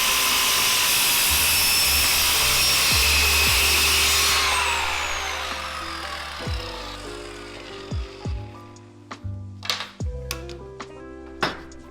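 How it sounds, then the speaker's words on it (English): A power sander works on wooden patio chair pieces with a loud, dense whir. It then spins down and is followed by scattered knocks and clatter of wood being handled. "I had to sand them down"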